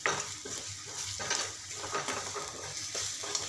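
Coriander powder, turmeric and other ground spices sautéing in a pan, a busy close sizzle with repeated scraping stirs in a loose rhythm.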